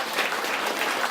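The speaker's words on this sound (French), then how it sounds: "Applaudissements, messieurs, dames, pour les futures Miss Sardine Croix-de-Vie." Audience applause at a town festival celebrating the future Miss Sardine of Croix-de-Vie, steady clapping from a crowd filling the whole moment with no talk over it.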